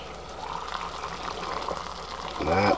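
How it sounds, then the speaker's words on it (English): Water boils in an ultralight cook set pot, a steady bubbling and watery churn heard close, with a voice rising over it near the end. "So it's boiling hot right off the stove."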